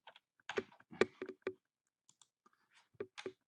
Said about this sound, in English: All I'm doing is typing right now.